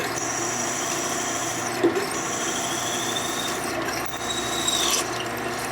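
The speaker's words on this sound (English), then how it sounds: "so we just drill straight through." A drill bores straight through a custom Harley-Davidson metal bracket, a continuous close grinding whine with shifting pitch and a couple of brief pauses, no talking.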